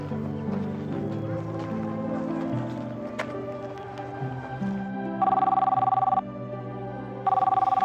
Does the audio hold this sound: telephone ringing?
yes